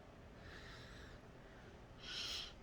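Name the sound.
sniffling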